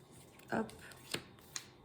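Tarot cards are drawn and laid out for a five-card spread, giving a few brief, close papery slides and light snaps spaced over a couple of seconds.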